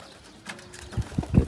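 Pigeons in a rooftop coop give low, throaty coos, a few soft repeated notes rising in the last half second, close by over quiet background.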